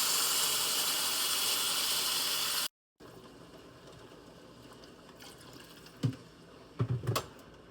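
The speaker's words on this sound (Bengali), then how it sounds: "এখানটায় আমি পুরো 6 কাপ পানি দিলাম।" Water poured into a pot of rice and fried ingredients for morog polow, a steady loud rushing pour that stops abruptly, followed by quiet kitchen clinks and a few sharp knocks.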